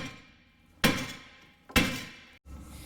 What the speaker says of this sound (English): So I'm going to go ahead and just tap it right here on the face using my hammer.